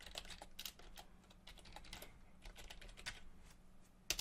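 Rapid, quiet keystrokes on a computer keyboard as a registration form is filled in, with an irregular patter of clicks over a faint steady hum.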